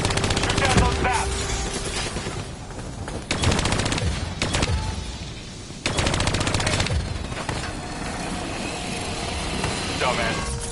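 Call of Duty Black Ops 3 gunfire aimed at bats, with repeated bursts of rapid shooting and pauses between them over steady battle noise and a distant mechanical hum.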